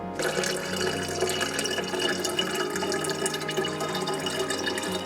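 Warm home-made kombucha poured from a bottle, a steady splashing, gurgling stream heard close and fairly loud for several seconds, with no talk.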